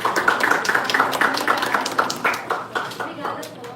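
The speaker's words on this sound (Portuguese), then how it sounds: "E eu gostaria que todos dessem uma salva de palmas para a Fernanda." A round of applause from the audience at a teen gathering, brisk clapping that is fairly loud at first and gradually thins and fades, while people speak over it.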